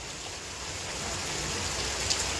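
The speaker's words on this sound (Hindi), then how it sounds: "अब तेज़ रफ्तार बारिश हो रही है" Heavy rain pours down in Jamshedpur under a cloudy sky: a steady, even hiss of downpour with no voices, fairly soft and unbroken throughout.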